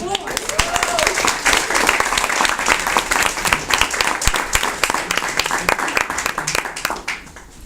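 An event audience at a London space gathering breaks into loud, lively applause, sharp individual claps standing out within the dense crowd clapping, tapering off near the end.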